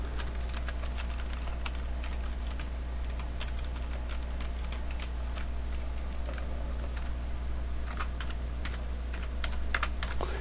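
Someone types an address in Korean on a computer keyboard while making business cards: a continuous stream of close, crisp key clicks over a low steady hum, with no talking.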